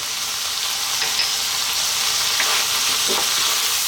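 Onions and a half-and-half garlic ginger paste fry over high heat for a lamb eggplant curry, a steady close sizzle with light stirring scrapes and no talk.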